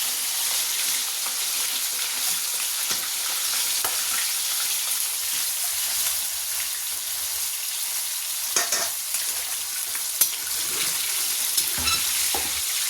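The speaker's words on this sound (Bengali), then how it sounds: "এখানে অনেকগুলো ভাজা হয়ে গেছে, এটাই লাস্ট ভাজা হচ্ছে" Food frying in a large wok over a high gas flame, giving a loud, continuous close sizzle with scattered crackles and pops throughout.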